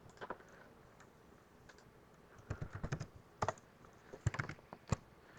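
Keys tapped on a computer keyboard while entering a graph into Desmos, a few sparse clicks early and then a quick irregular burst of close typing strokes, quiet, with no talking.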